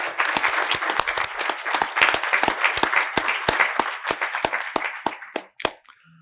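Audience applause at the 2019 American Indian Festival of Words writers award ceremony: crisp, close clapping from a modest crowd that keeps a busy rhythm before thinning out and stopping near the end.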